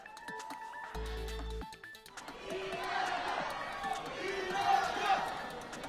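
Supporters cheer and shout at Incheon International Airport as a returning former party leader appears, a crowd roar swelling in the distance after a brief electronic tone and announcement, rising and falling with scattered voices.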